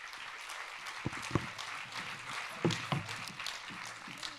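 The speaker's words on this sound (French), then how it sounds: "Je vous demande un tonnerre d'applaudissements pour Tom Boudet." A theatre audience at an awards ceremony gives faint, scattered applause for a comedian, with a few sharper claps standing out over a low, hushed room.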